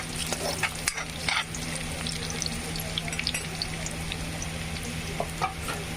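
Garlic and curry leaves fry in a pan with a continuous close sizzle and crackle, scattered pops and a few scraping stirs, with no voices.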